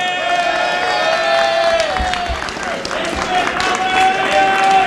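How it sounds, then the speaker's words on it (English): A crowd applauds and cheers throughout, with steady clapping and whoops mixed with a voice talking over it. "how about we get a round of applause while I make my way"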